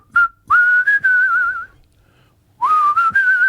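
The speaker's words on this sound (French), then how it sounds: "Et un petit sifflement en terminant." A person whistles a clear, bright tune close up: one short note, then a long wavering phrase, a pause of about a second, and another sustained melodic phrase.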